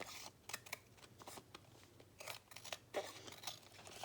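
Scissors snip along the edge of paper while trimming a junk journal belly band, a quiet, close run of short cuts with faint crinkling between them and no talking.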